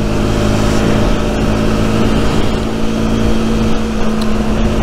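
The engine of a Rieju Century 125 motorcycle, a 15-horsepower 125 cc machine, runs loud and close in a continuous hum, its pitch rising slightly partway through.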